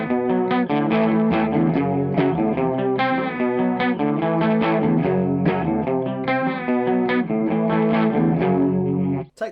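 Electric guitar played through a chorus pedal, a warm wavering tone picking out a continuous riff of chords and notes, loud and up close.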